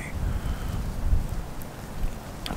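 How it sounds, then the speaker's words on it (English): Strong wind blowing outdoors on a dreary day during deer season in Pennsylvania, a steady low roaring buffet against the microphone with gusts rising and falling. "Man, it's windy."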